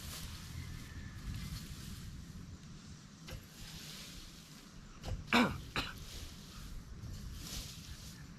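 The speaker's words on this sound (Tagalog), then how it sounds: "grabe kang ubo ka" A short cough bursts out of a steady low background rumble, with a couple of smaller throat sounds just before and after it.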